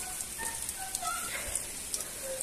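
Heavy rain patters outdoors in a steady, soft wash of scattered drops, faint and continuous, with no voices.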